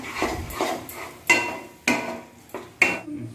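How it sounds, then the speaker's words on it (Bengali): Spice paste with salt and turmeric being stirred and fried in a pan for an okra curry, with a spoon knocking and scraping against the metal in several sharp, evenly spaced clinks, fairly close, with no talking. "এই সব কিছু ভালো করে মিক্স করে আরও কিছুক্ষণ মশলাটাকে কষে নিচ্ছি"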